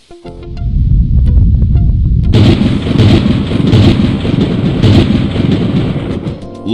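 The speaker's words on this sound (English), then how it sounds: "Looks like a big storm." Heavy storm from the adventure game Day of the Tentacle: a continuous loud roar of thunder and pouring rain, swelling sharply partway through and rumbling on with cracking bursts, with no voices.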